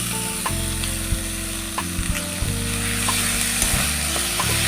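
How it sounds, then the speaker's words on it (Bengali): Tomatoes frying with ginger-garlic masala in a pan for a Bengali echor kalia crackle and sizzle loudly up close, with repeated scraping and clicking of a spatula against the pan. "মশলাটা খুব ভালো মতন কষাবো"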